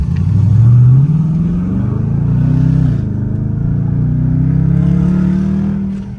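A Dodge Charger R/T fitted with Carven performance mufflers and a resonator delete revs up close, a deep loud rumbling exhaust rising in a sharp burst, then climbing again in longer, throaty pulls before easing off.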